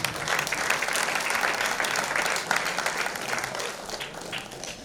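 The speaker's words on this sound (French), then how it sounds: "Vous pouvez acclamer pour nos enfants." An audience applauds children at a certificate ceremony, with dense, sustained clapping that holds steady and then thins slightly toward the end.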